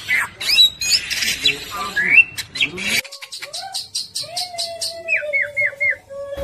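A Bali myna (Bali starling), a protected bird endemic to Indonesia, calls loudly and close with harsh squawks and chattering, then sharp clicks, a long whistled note and a quick run of repeated down-slurred chirps.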